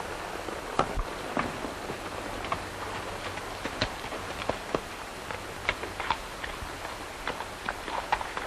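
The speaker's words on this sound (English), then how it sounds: "Looks like Madigan's horse." Horse hooves clip-clop at a steady trot, sharp irregular clops fairly close, with no talking.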